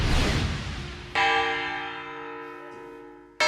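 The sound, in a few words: church bell ringing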